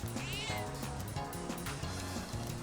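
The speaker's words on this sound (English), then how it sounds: "A cat!" A cat meows in the video game Persona 3 Reload, several short calls rising over steady game music, with brief talk near the start.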